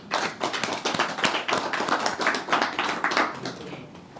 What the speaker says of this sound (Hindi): दोनों हाथों को जोड़ के सबको अप्रिशिएट करने के लिए एक बार ताली बजाते हैं